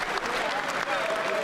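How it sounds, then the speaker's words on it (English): Audience applause during a presidential State of the Union address, steady dense clapping throughout, heard at a distance through a broadcast feed. "applauds."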